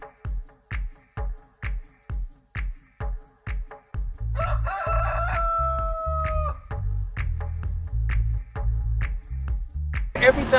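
A rooster crows loudly and close by, a single long cock-a-doodle-doo following a regular series of rhythmic thumping beats, with clucking fowl around it.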